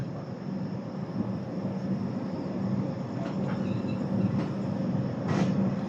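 Kolkata–Agra Cantt superfast express 13167 running steadily, a continuous rumbling roar of the train heard from inside, with faint rattles and a brief hiss near the end.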